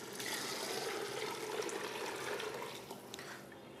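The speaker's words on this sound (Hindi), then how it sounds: "अब इसके अंदर हम पानी शामिल करेंगे।" Water pours steadily from a vessel into a pot of pea pulao masala, a continuous splashing rush that thins out toward the end, with no talk over it.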